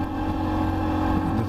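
A lightweight Sinnis Terrain motorcycle rides a country road in Wales, its engine holding a steady, close drone with a low rumble and wind noise throughout.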